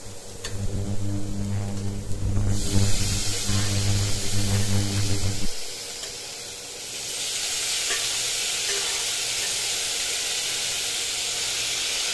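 Boiled potatoes hitting a hot oiled pan for an oil-masala fish curry, a loud close sizzle with stirring for several seconds that then drops to a softer, even steamy hiss.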